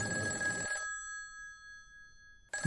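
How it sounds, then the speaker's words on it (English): A beige telephone ringing, one bright electronic ring burst that stops, then a short silence before the next ring starts. "the phone's ringing. The Beige phone."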